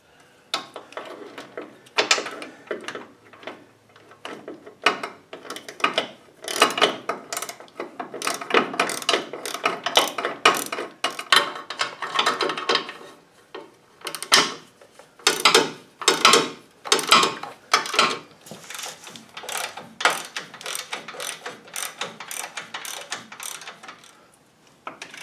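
Ratchet wrench tightening steering box bolts on a vehicle's steering brace bracket, a long series of quick, loud clicking bursts in rhythmic runs with brief pauses, close and alone with no talk.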